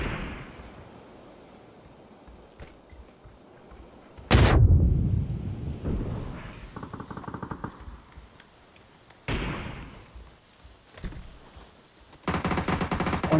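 Grenade blast and gunfire in the battle-royale video game PUBG: a loud, booming explosion hits a few seconds in, followed by rapid bursts of automatic fire, sharp single shots and another loud volley near the end, with no talking.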